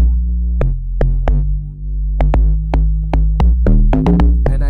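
Amapiano beat with a deep log drum bass hitting in syncopated repeated notes, each a punchy low thump with a short tail, over sustained bass layers and sharp percussion clicks, loud and up front with no talk.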